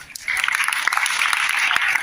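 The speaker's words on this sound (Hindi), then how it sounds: "प्लीज जोरदार तालियां उनके लिए" Moderate clapping from a small seminar audience in Kolkata, steady and sustained for a couple of seconds.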